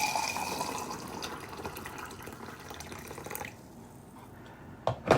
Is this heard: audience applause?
no